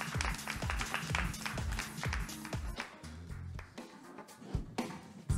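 Scattered audience applause for the winner of a startup pitch competition at a tech expo, loud close claps at first that thin out into sparse individual claps with faint background noise.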